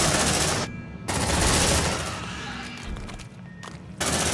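Gunfire in the game Aliens: Dark Descent, with loud bursts of rapid automatic fire in several sustained volleys separated by short gaps, and a voice briefly shouting under the shooting.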